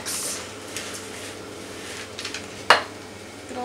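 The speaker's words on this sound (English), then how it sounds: "Give it a mix." Veggie enchilada filling is stirred in a pan, giving a soft low sizzle and gentle scraping, then one sharp clack of a utensil against the pan near the end, with no speech.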